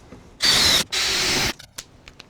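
A drill bores through the sheet-metal body of a camper van in two loud, steady bursts a fraction of a second apart, followed by a few faint clicks and rattles.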